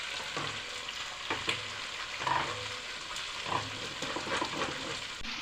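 Onions sizzle steadily in hot oil for a tadka for tamarind kadhi, with cumin seeds going in. A spoon scrapes the pan every second or so over the continuous frying hiss, and no one speaks.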